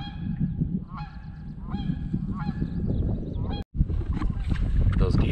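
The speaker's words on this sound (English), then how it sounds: "Those geese certainly didn't like me being anywhere near them." Several geese honk near a lake in wild kayak-camping country, repeated sharp calls close by over steady low water and paddling noise, with a brief gap near the end.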